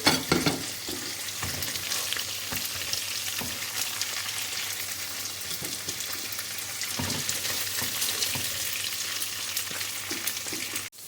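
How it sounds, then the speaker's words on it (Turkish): Pieces of liver, for Albanian-style fried liver, fry in hot oil in a pan with a dense, steady, close sizzle, with a few soft stirring knocks and no talk. "kızgın yağda bekledikten sonra ciğerlerimizi kevgir yardımıyla tavamıza ekliyoruz"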